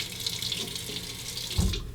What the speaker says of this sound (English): Temper it under the hot water.